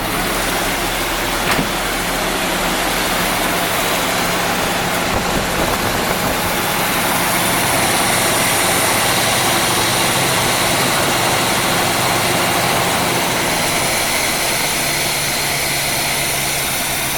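A 1975 Chevrolet Corvette C3, neglected for decades and freshly revived, idles steadily on a cold day, a continuous rough engine drone holding nearly unchanged throughout with no voices over it.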